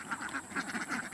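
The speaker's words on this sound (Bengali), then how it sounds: "দেখতে পাচ্ছেন এই বিলে প্রচুর হাঁস।" A flock of ducks on a duck farm beside a wetland in Kamarkhanda village, Chatmohar, Pabna, quacks continuously, with repeated overlapping calls rising and falling in close, moderately loud bursts and no voices.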